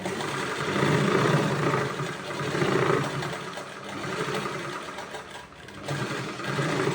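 A sewing machine stitches cloth for a baby bib with a close, continuous whirring hum that rises and falls in bursts, with a brief pause near the end.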